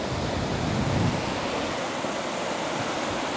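Sea waves wash onto a shore in a steady, broad roar of surf, mixed with wind rumble against the microphone, with no voices heard.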